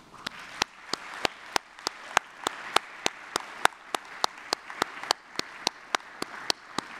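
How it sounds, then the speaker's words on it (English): Audience applause for scholarship winners and their sponsors at a public transportation foundation's annual conference, with sharp, evenly spaced claps standing out above a steady wash of clapping for about seven seconds. "please join me in another round of applause for our scholars and their sponsors."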